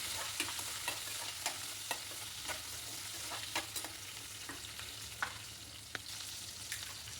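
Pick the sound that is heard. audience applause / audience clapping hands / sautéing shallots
sautéing shallots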